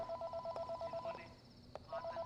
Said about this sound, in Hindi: ये फोन्स कभी बजना बंद ही नहीं करते.